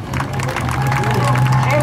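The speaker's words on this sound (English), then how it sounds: "And a big round of applause." A crowd at Hudson Speedway claps for the feature winner of a sportsman and modified race, a dense steady patter of applause under a loud announcer's voice.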